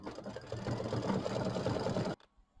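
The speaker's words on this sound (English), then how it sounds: "All right, off it goes. Do our decorative stitches" Kimberbell mini quilt on an embroidery machine stitching decorative stitches, a steady rapid mechanical whir with fast needle pulses for about two seconds before stopping abruptly to near silence.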